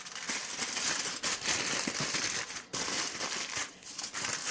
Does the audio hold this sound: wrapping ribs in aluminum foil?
yes